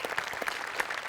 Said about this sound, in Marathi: डांगे आणि सम्या दोघांसाठी एकदा टाळ्या.